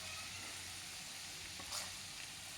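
Ginger and garlic fry in oil for a chicken pickle, a faint, steady hiss of sizzling with a brief stir-like rustle partway through.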